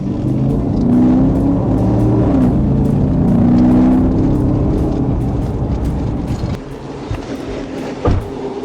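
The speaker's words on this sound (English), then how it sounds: "Then, he hits the gas." A car flees Arkansas State Police with a loud, sustained engine roar that surges steadily, then eases and roughens near the end, alone without talk.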